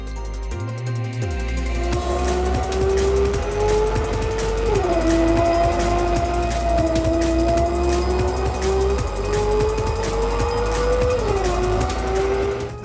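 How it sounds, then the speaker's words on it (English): The Hyundai RN22e electric car driving on a race track, a loud sustained whine whose pitch rises and dips with speed, plus constant road and wind roar, heard from inside the car. "The first thing you notice driving the RN22e is the noise. It doesn't sound like any other EV."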